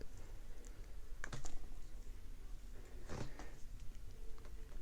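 A part on a seized fishing reel is pushed on until it clicks into place, giving a couple of small, close, sharp clicks in quick bursts over faint background noise.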